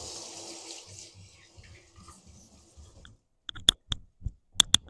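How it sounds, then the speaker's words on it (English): Water runs from a kitchen tap while something is rinsed off under it, a steady faint flow that stops, followed by a few sharp clicks and knocks nearby. "let me wash this off real quick"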